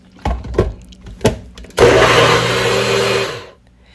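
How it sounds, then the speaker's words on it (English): A few dull thuds and knocks, then a blender whirs loudly at high speed for nearly two seconds, grinding frozen pineapple steadily before cutting off. "let's blend it completely for a couple minutes"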